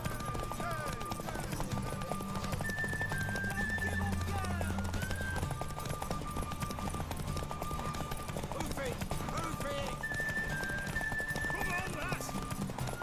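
Horse hooves clip-clopping in a steady galloping rhythm during a horse race in The Witcher 3, under frequent game dialogue with occasional neighing and background music.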